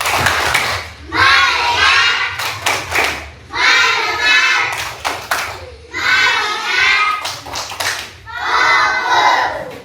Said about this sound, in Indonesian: Coba kita tepuk fokus dulu. Biar semangat belajarnya, tepuk fokus.